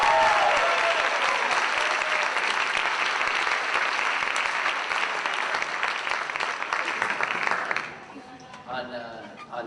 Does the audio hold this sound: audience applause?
yes